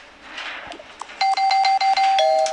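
A doorbell in the game Toca Life World rings with repeated electronic tones, a loud rapid run of bright chimes that follows a quieter stretch of soft clicks and rustling, with no voices.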